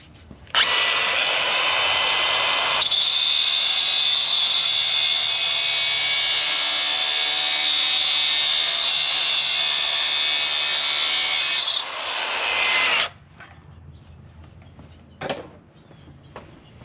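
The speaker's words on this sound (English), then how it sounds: "So we're gonna go ahead and grind that off real quick." A power grinder cuts off a leftover weld nub on metal with a loud, high, continuous whine that lasts about twelve seconds, then spins down. A short clatter follows in a quieter space.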